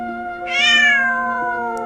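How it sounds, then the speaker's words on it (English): A single cat gives one clear, rising-then-falling meow lasting under a second, close and loud over a soft sustained musical tone. "Cat."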